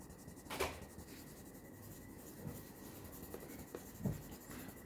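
A pencil shades a diagram on paper with soft, faint scratching strokes that continue quietly, broken by a few slightly louder scrapes, with no voices present.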